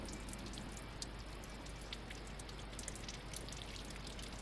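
Water trickling and dripping from a Vauxhall/Opel A14XER engine during a timing chain replacement, a faint continuous patter of drops with no talking.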